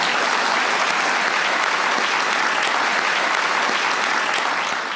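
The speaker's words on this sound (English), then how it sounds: "Please give them a big round of applause." Sustained, loud applause from a large audience at a Medal of Honor ceremony, dense and steady throughout before tapering slightly at the end.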